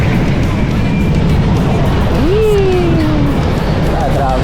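Road traffic with cars passing along a congested street during Holy Week, heard from a bicycle as a steady loud rumble with engine tones sweeping past and people talking over it.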